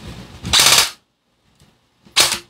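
An airsoft gun fires two short, loud, close bursts of rapid shots separated by silence.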